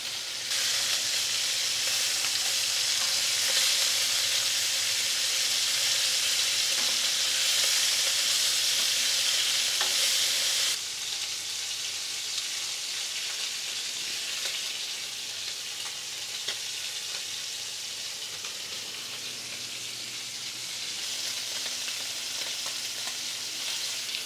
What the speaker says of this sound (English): the chops are now seared on both sides